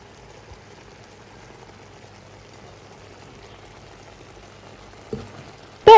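Tomato and prawns simmer and fry together in a pan with a faint, soft bubbling that stays low and steady. A brief knock comes near the end, followed by a sudden louder burst.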